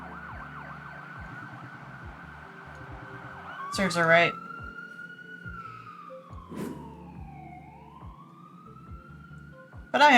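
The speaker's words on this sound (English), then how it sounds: "Sounds like this little amplifier on the muffler got the cops' attention." Police siren in the video game Dynopunk, wailing up and down at moderate distance over quiet rhythmic background thumps, with a few brief clanks and a voice speaking.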